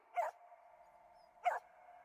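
A dog barks twice, about a second apart, each a short sharp yelp over a faint steady background hum, with no one speaking.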